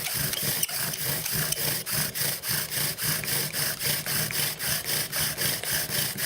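Bow drill spinning against wood: rhythmic rasping friction repeating in a steady back-and-forth cycle about three times per second, close and continuous with no talk.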